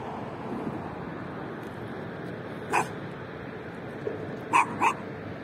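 A few short dog barks ring out outdoors on a quiet sunny day, one single bark followed later by two quick barks, moderately distant over soft background ambience.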